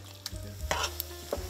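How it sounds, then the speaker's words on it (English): Duck meat frying and being stirred in a pan for jalapeño duck egg rolls, a soft continuous sizzle with light scraping and clattering stirs scattered throughout. "fry them in the pan."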